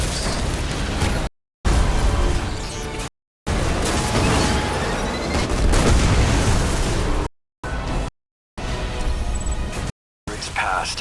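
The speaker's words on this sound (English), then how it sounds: "Yeah, that's the other cannons." Cannons fire in the Destiny video game, heavy booming blasts and bursts rolling over dense battle noise, loud and repeated, broken by several short silent gaps.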